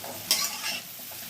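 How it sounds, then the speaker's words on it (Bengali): Semolina stirred and roasting in a pan, giving a brief scraping stir with soft dry sizzling that swells twice, close and fairly quiet, with no talk. "এবার দেখুন আস্তে আস্তে করে আমি নাড়াচাড়া দিয়ে এগুলোকে ভেজে নেব।"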